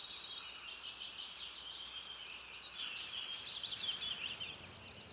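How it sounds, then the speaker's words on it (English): A dense chorus of many birds of every kind chirping and calling at once as they settle at dusk in a rain tree in Bangalore, steady and overlapping throughout, at moderate distance with no voices. "you can hear birds of every kind as they settle down at dusk"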